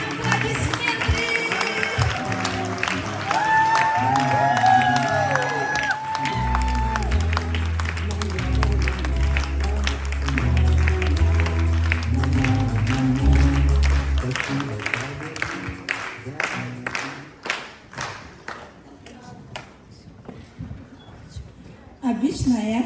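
An audience in Dagestan applauds as a performer is welcomed onto the stage. The scattered clapping is partly buried under loud booming music and crowd voices, and it thins out toward the end.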